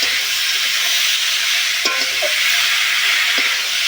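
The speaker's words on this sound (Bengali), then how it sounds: "মশলার সঙ্গে এই ওলের ডাটা ভালো করে কষে নিতে হবে" Boiled elephant foot yam stems are stir-fried with spices in a pan. A dense, loud, continuous sizzle fills the space, with a couple of brief utensil scrapes.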